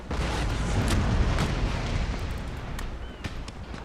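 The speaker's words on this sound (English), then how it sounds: "There's a broadside from the repulse. Some decent hits there." A naval cannon broadside booms in Empire: Total War, a rolling series of heavy, rumbling blasts with sharp cracks scattered through a dense low roar.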